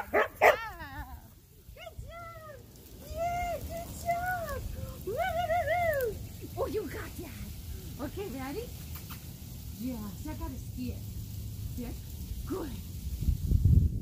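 A dog yelps, whimpers and gives short barks during a play-based training session, with high whiny cries recurring over several seconds near the microphone while a person talks encouragingly in between.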